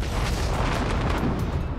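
A 100-tonne explosion booms as a deep, sustained roar, loud and broadband from start to finish, a continuous rumbling blast with no voices over it.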